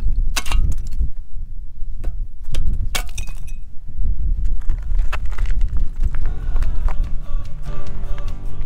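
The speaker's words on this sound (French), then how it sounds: "On dirait du verre, c'est un bruit de verre." Footsteps crunching over brittle desert crust in Death Valley, California, giving repeated sharp glassy cracks and crackles up close, irregular steps continuing for several seconds.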